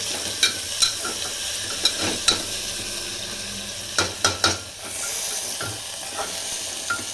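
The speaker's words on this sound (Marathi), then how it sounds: "तळला आता चांगला कांदा टोमॅटो।" Onion and tomato frying in a pan for dal khichdi, a soft continuous sizzle broken by sharp clacks of a spoon stirring against the pan at uneven intervals.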